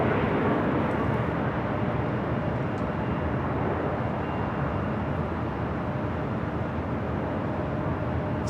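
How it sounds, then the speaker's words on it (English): Lufthansa Airbus A380 taking off from runway 24 left at LAX, a steady, broad jet roar that holds loud and constant throughout with no voices. "the Lufthansa A380 Super now heading up for a north side at takeoff on 24 left"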